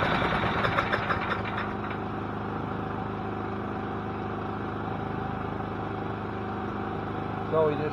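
A portable generator engine runs steadily at close range, a loud, even mechanical drone that holds for the whole stretch.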